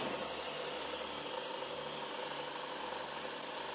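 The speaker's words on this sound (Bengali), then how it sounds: "এই যে গাড়ি স্টার্টে আছে, গাড়ির এক্সট্রা কোনো শব্দ নাই।" A Toyota Probox car engine idles with a faint, steady low hum and broadband hiss, unchanging and with no other sounds.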